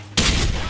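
A burst of RPK74 light machine gun fire in the online shooter Special Force 2, an abrupt loud onset that stays dense and sustained through a short rapid volley, no talking.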